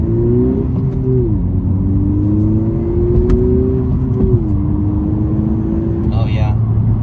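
A 2020 Honda Civic Si at about half throttle, its engine note climbing steadily with a gear change early on, loud and close from inside the cabin, with a brief voice near the end.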